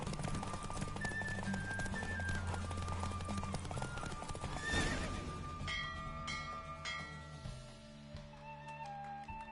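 A horse gallops in The Witcher 3: Wild Hunt, rhythmic hoofbeats clattering over game music, with a sharp burst midway and a neigh amid orchestral tones, no talk heard.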